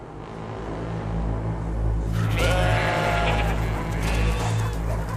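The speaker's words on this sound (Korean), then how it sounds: "내가 태어나는 날에도 염소들이 미친 듯이 울어댔다." Goats bleating in a film scene, a cluster of wavering cries rising midway over a steady low droning rumble and hum that continues throughout.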